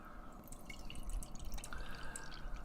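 Imperial cherry mango peach sour ale from Southern Grist Brewing is poured into a glass, giving faint, close liquid splashing and fizzing trickles over a quiet background.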